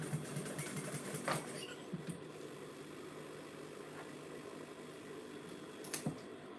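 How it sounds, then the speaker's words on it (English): A sewing machine runs in short bursts while stitching fabric for a drawstring chocolate gift box, a quiet mechanical whirr with faint clicks, close by and fairly soft, with no talk. "So now I'm going to sew this, carry on sewing this."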